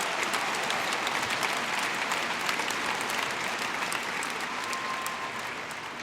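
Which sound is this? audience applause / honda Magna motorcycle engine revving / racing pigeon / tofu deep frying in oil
audience applause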